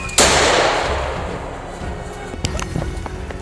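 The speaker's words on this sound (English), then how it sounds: "I squeezed the trigger. One powerful shot was all it took." A single sharp, loud hunting rifle shot fired at a charging wild boar in a forest cracks out and decays into a long rolling echo, followed by faint clicks and rustles.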